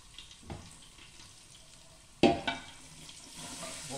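Dry pasta is dropped into a hot pressure cooker, giving a soft tap and then a sudden loud sizzle that fades into a quieter fizzing, close and without talk.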